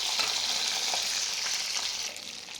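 Steady, loud sizzling of half-boiled chicken pieces deep frying in hot oil, a dense crackling hiss that eases slightly near the end, with no talk.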